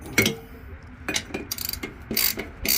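Ratcheting wrench clicks and metallic clanks come from mandrel assembly parts being tightened on a 46-inch-cut Husqvarna lawn tractor deck, several bursts of close, sharp mechanical sound with pauses between.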